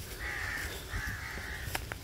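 A crow caws twice in quick succession near rice set out for crows, close and clear, followed by a couple of soft clicks.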